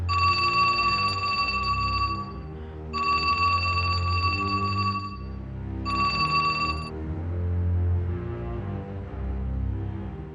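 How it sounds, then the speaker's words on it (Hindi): An old-style telephone bell rings in three long bursts with short pauses between, over a low, steady musical drone. "बेटा ये टेलीफोन की आवाज।"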